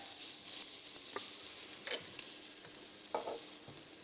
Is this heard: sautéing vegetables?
yes